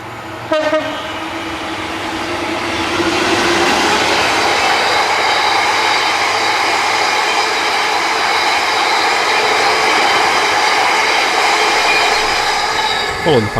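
Locomotive 66723 hauls a train of cement empties downgrade on the Settle and Carlisle line, starting with a short horn blast and then a long, loud, steady rumble and rattle of wagons passing close by.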